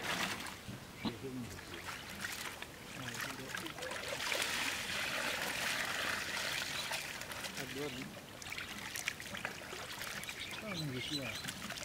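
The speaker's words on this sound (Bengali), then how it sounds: "এবারে ডালিটা ধোবো।" Lentils (dal) being washed by hand in a pot of water in a village kitchen, continuous sloshing and trickling with splashes, close, and a voice talking over it at times.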